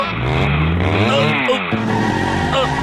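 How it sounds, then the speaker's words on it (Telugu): An animated motorbike races out of control, its engine whining and rising in pitch with skidding tire squeals, loud and close, with sweeping swoops in tone over a few seconds. "దీని స్పీడ్ పెరిగిపోతోంది. దీని స్పీడ్ తగ్గించడం నా వల్ల కావడం లేదు."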